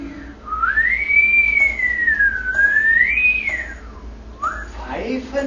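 A person whistles a smooth, sliding melody, rising and falling in long tones, followed by a brief chirpy phrase at the end.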